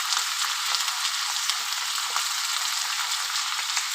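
Bombay duck (lotte) fish sizzling in hot oil in a pan, a steady bright crackling hiss with tiny pops, close and continuous with no talking.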